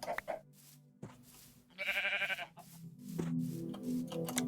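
A Minecraft sheep in the GregTech modpack gives a clear, wavering bleat in the middle, loud and close, set among soft ambient game sounds and faint tones.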